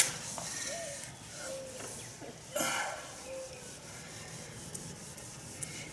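Toothpaste being rubbed by hand onto a yellowed plastic car headlight, producing a soft, continuous scrubbing and rasping close up, with a brief louder scuff midway and faint breathing.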